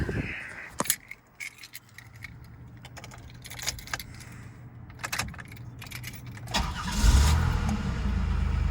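Keys jangle and a 1980s Buick Reatta's engine cranks and catches, settling into a steady close idle after a few seconds of clicks and rustling.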